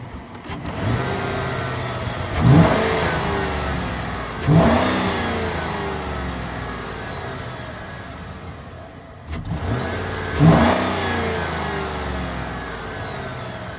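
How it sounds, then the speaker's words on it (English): A 2012 Chevrolet Silverado 4X4 Z71 pickup engine revs with the hood open: four distinct throttle blips rise and fall over a steady idle, close and loud, with no talking. "I'm going to rev it up again now, but with the hood open"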